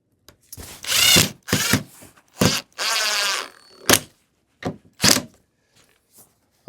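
A power drill drives screws into the wooden boards of a child-size picnic table in several short whirring bursts separated by pauses, close and fairly loud, with faint handling knocks between runs.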